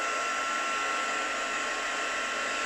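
A hair dryer or heat tool drying layers of mixed media on a tag background roars as a steady, loud, continuous broadband whoosh that runs unbroken the whole time.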